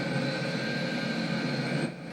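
A Boeing 747 jet taxiing along a runway in a Die Hard 2 action scene, a steady, loud, continuous engine roar and whine filling the whole stretch without voices.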